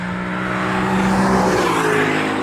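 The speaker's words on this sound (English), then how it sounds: "Engine sounds great. It's awesome to have that naturally aspirated sound." A 2021 Lexus LC500's naturally aspirated engine revving on a race track, a loud, close, steady howl with the pitch swelling upward toward the end.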